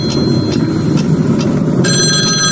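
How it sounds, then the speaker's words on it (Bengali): A telephone rings in short repeated bursts over a constant low engine-like hum, with a brighter electronic tone joining near the end. "টেলিফোনটা বাজছে। এখন এত রাতে কে ফোন করছে?"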